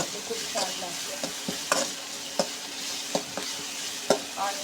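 Okra sizzles in a frying pan with tomatoes added, a steady crackle broken by sharp, irregular scrapes and clacks of stirring.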